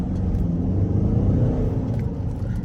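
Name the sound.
Mercedes-Benz C250 AMG coupe engine revving in sport mode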